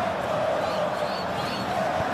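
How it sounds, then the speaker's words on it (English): Murmuring football stadium crowd at a Bahia versus Vitória Brasileirão 2024 match, a steady broad roar of many voices with a brief swell of excitement, heard continuously throughout without a clear single cheer. "Well, the crowd clearly like what they just saw."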